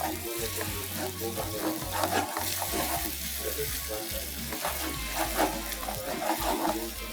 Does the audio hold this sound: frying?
yes